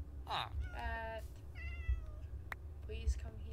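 A cat meows in the video game Minecraft, with a few short meows spread across the moment while a person calls to it in between.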